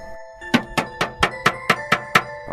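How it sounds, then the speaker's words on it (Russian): A fist knocks on window glass eight times in a steady rhythm, each rap sharp and resonant, close and fairly loud over a quiet, faintly humming room. "это был звук удара кулака по стеклу."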